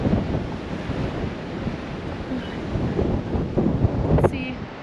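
Gusty winter wind rumbles steadily across the microphone in a parking lot in Amarillo, Texas, loud and close, with a brief faint chirp near the end.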